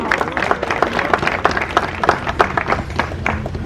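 Guests at a wedding ceremony on Gorée Island applaud, a dense, steady patter of many hands close by that carries on evenly, with faint voices mixed in.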